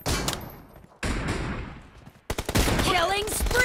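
Gunfire in PUBG Mobile, loud bursts of rapid shots broken by short gaps, ending in a dense, continuous barrage with echoing whines, heard alone and close.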